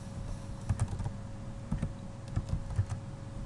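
Keys clatter on a computer keyboard as a login ID and password are typed, a quiet run of quick, uneven keystrokes in short bursts with no voices.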